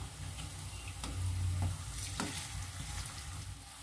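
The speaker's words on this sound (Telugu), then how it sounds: "కొద్దిగా ఫ్రై అయ్యాక మరోవైపుకి తిప్పుకొని ఇలా ఫ్రై చేసుకోవాలి" Purnam boorelu, sweet stuffed dumplings, fry in hot oil with a quiet, steady sizzle and a few faint ticks and clinks from the pan.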